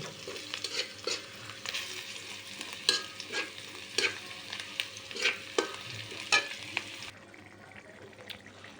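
Onions fry in a pan with a steady sizzle broken by repeated scraping and stirring clatters, fairly close and without any voice.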